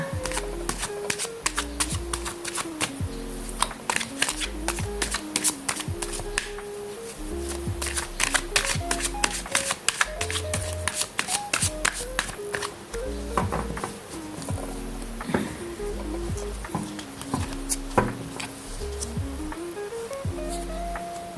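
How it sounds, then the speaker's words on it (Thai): Tarot cards being shuffled by hand, a close, continuous run of crisp riffling and flicking bursts over soft background music, with no speech. "เดี๋ยวเรามา สับไพ่กันก่อนนะคะ"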